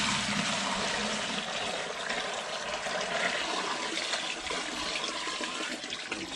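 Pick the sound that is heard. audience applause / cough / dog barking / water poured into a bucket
water poured into a bucket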